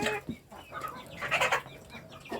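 Three-month-old domestic chickens being fattened for sale on a farm cluck in short, overlapping bursts, fairly close and busy, with no talking.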